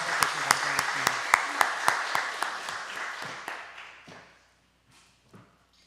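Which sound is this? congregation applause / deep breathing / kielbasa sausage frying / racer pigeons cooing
congregation applause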